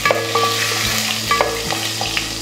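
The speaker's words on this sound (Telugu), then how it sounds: "ఇవన్నీ వేసుకుని ఇలాగ ఒక కలుపు కలుపుకోండి" Bay leaves and cumin seeds crackle in hot oil while a spoon scrapes and stirs them around the pan for fish dum biryani, a close, continuous sizzle with regular stirring clicks and no voices.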